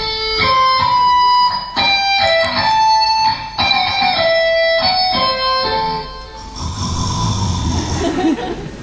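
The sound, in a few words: electric guitar melody played plainly without tremolo bar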